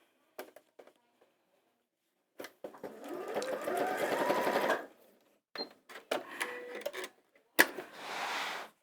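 A sewing machine tacks a bag strap onto a small apron bag, in a couple of short stitching bursts with quiet gaps and faint handling clicks between them.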